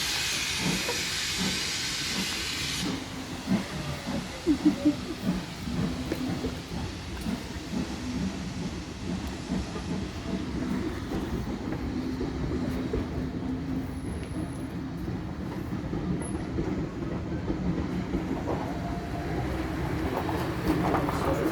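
A steady low rumble with hiss as a train draws gradually closer to a signal box at Arley, continuing without a break for the whole stretch.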